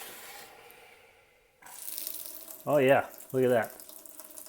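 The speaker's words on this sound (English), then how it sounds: "we want to turn it on, and we want to let it run for 5 minutes" Water runs steadily from a chrome Brita On Tap faucet filter into a sink with a soft, continuous rush, while a person talks briefly over it.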